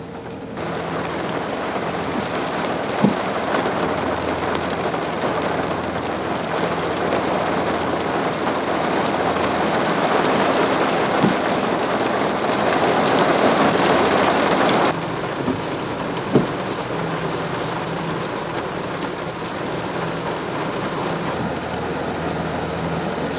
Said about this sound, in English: Summertime thunderstorm.